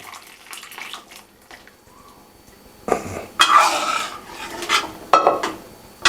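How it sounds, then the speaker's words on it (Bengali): Dal being poured into a pot of boiling water with mango pieces for a tangy mango dal, heard as two loud bursts of splashing liquid after a quieter stretch of faint kitchen noise. "আমটাও সেদ্ধ হয়ে গেছে বা ডালটাকে ঢেলে দেবো এতে"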